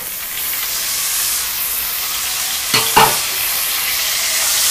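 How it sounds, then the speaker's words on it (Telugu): Tomato pieces frying in a pan for egg pulao, a steady close sizzle and hiss with a couple of brief stirring clatters near the middle, no talking. "ఈ టమాటా ముక్కలు కూడా కొంచెం ఫ్రై అవ్వాలి"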